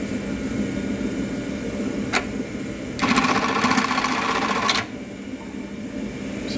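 Juki LK1900BN industrial tacking sewing machine stitching a leather piece onto two layers of heavy webbing belt, a loud, close burst of rapid mechanical stitching lasting about two seconds over steady workshop hum, preceded by a single click.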